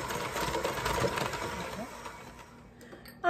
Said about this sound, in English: Sometimes I think the hand mixer creams butter and sugar together better than my big old stand mixer.